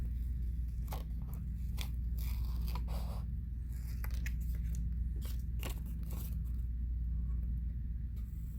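Scissors snip through paper card squares for an Eevee card, producing a scattering of short crisp cuts and crunches at an irregular pace, faint and close over a low steady background hum.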